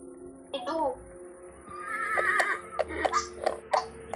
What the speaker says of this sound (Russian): Пришла лошадь.